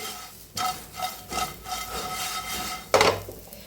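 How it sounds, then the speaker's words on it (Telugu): Spices including cumin powder stirred through raw banana pieces in a pan for a fry, a few dry scraping strokes with a spoon, the last one louder and rougher, alone without talk. "ఇప్పుడు ఇవన్నీ స్పైసెస్ మాత్రం చక్కగా కలిపేటట్టు కలుపుకుందాము."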